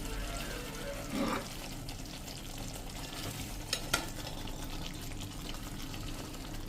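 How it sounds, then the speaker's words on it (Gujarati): Halved green chillies go into an oily, simmering gravy in a pan and are stirred through: a continuous sizzle with a scraping swirl early on and a couple of sharp utensil knocks later. "હવે આ સ્ટેજે આપણે આ જે મરચાં આપણે 2 પીસ કર્યા છે ને એ આમાં નાખી દેશું"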